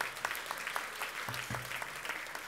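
Audience applause at the National Trust Heritage Awards 2021 ceremony, a moderate patter of clapping that carries steadily throughout without a voice over it.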